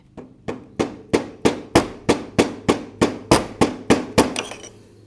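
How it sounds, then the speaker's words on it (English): A mallet taps a transmission seal into a Polaris Scrambler 500 2x4, giving about fourteen sharp, evenly spaced knocks, close and loud, with nothing else heard. "I'll be able to tap it with my mallet and hopefully get it in."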